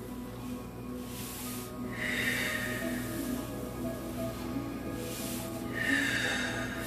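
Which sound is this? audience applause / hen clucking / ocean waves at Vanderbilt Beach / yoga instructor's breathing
yoga instructor's breathing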